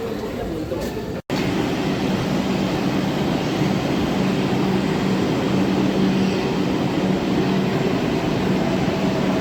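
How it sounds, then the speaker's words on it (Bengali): Kolkata metro train pulling into a station, a loud, steady roar and rumble of the carriages filling the platform, continuous and close after a brief cut near the start. "ট্রেন এসে গেছে"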